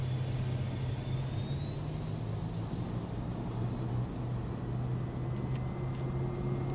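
Cirrus Vision Jet G2+ in a PS5 flight game spooling up for takeoff, a steady loud jet whine climbing slowly in pitch over a constant low engine drone, with no talking.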